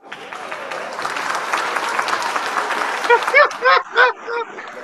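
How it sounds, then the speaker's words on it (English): A canned applause sound effect is played on a bass players' talk show, a bright crowd clapping that swells and holds, then gives way to a few short loud voiced bursts at the end. "Hold on, we need some applause. Let me see if I got some."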